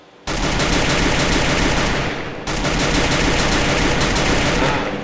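Continuous rapid machine-gun fire in a video game blasts loudly in two long sustained bursts with a brief break between, dense and rattling throughout.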